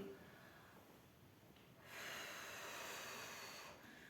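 During morning exercises, a person breathes in and out. A faint, close breathy hiss swells for a couple of seconds against a quiet background.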